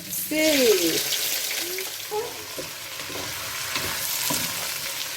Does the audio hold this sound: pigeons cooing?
no